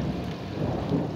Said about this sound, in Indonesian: Ini di tempat Mbok sedang banyak hujan petir ya